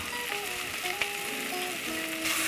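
Basil and dried thyme sauté briefly in a hot pan for marinara sauce, giving a soft, steady sizzle with a faint tap or two of stirring, close by and moderate in loudness, while tonal music plays underneath.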